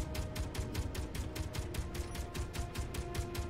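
Automated turret fire in Space Engineers, a fairly quiet, steady stream of evenly spaced shots repeating about five times a second with no talking.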